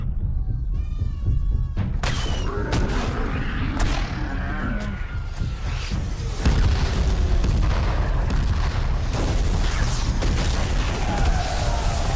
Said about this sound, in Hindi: उनकी चलती फिरती तोपों का सामना करना मुश्किल है।